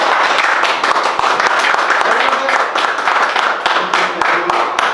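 A crowd claps for a company chairman's welcome at an e-learning app launch, dense, loud applause throughout with scattered sharper claps.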